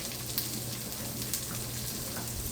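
Asparagus sautés in a pan with rendered bacon fat, giving a steady, close hiss of frying with a few faint clicks and pops throughout and no talking.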